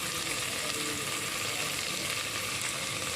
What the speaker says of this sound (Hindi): आब हम सब चीज़ के फ्राई कर लै छियै।